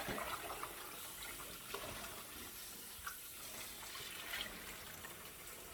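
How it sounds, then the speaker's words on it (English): Vinegar water used to wash red snapper being poured out of a container, a steady, faint splashing stream with no talking. "I'm gonna throw off this water"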